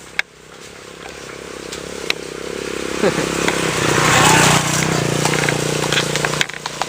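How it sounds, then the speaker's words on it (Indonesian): A motorcycle engine rises from a low rumble to a loud buzzing roar as it draws near and passes, with clatter and a few sharp knocks around it. "Ada motor guys."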